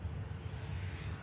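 A steady low engine drone from an Aer Lingus airliner at Manchester Airport, heard briefly at moderate distance with no voices.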